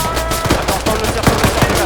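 Gunfire in the military video game Arma III comes as rapid, loud bursts of repeated shots laid over a dense, steady game soundscape.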